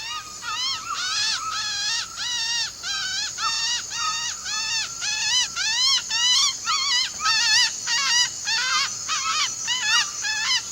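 A man in the rainforest imitates a bird call, whistling a long run of rapid, rising and falling notes in repeated bursts, clear and fairly loud over a quiet hum of forest insects.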